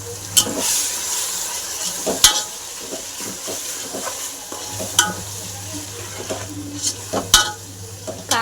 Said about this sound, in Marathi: कांदा, टमाटा आणि मसाला संगतीच तळून घ्यायचा